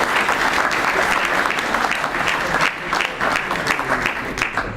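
An audience at an awards ceremony for departmental and regional titles applauds loudly and steadily, a dense wash of clapping from many hands that lasts the whole time.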